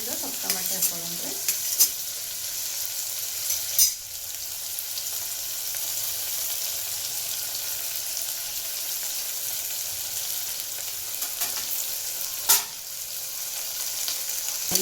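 Tomato and onion fry for methi pulao, a steady, close sizzle of oil running throughout with a few sharp scrapes of stirring.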